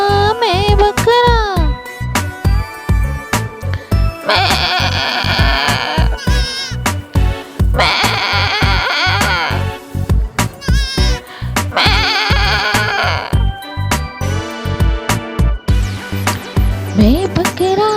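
Goat bleats sound over a bouncy children's song with rhythmic beats and melody, the wavering bleats cutting in loudly and repeatedly between musical phrases.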